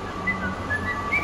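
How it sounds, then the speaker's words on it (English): Someone whistles a few short, thin notes, faint and a little distant over a steady background hum. "Go on, give us a whistle."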